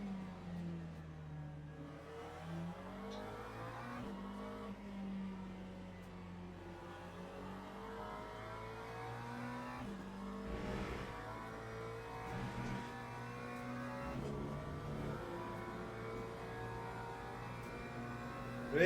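A Mercedes race car drives on the Paul Ricard circuit, its engine drone rising and falling steadily through gear changes for the whole stretch at a fairly constant, moderately loud level.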